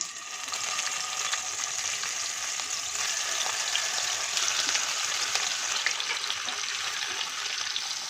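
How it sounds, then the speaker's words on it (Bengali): Bata fish coated in salt and turmeric fry in hot oil over a medium gas flame, making a continuous, even sizzle with fine crackling spatter heard up close, without any voices. "এবার গ্যাসের ফ্লেম মিডিয়ামে করে নুন হলুদ মাখানো মাছগুলো তেলে ছেড়ে দিচ্ছি"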